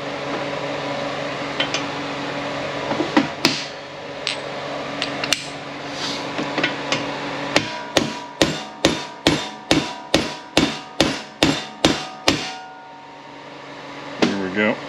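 Metal hammer blows drive a part down during a P35A pistol rebuild: a few scattered taps give way to a steady run of about a dozen sharp, evenly spaced strikes, close and loud, with faint talk around them.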